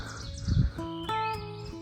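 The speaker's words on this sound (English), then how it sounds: "Beautiful morning, birds are singing." Birds sing on a hillside in the morning: a couple of short chirps and tonal notes, fairly faint and close together, with no talk.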